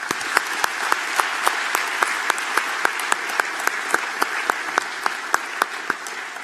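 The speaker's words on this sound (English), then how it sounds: "Please join me in applauding their special achievements." An audience at a University of Toledo College of Engineering spring undergraduate commencement gives sustained, dense applause, with a steady wash of clapping and distinct sharp claps standing out at a fairly regular pace.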